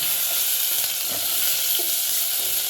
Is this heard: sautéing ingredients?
yes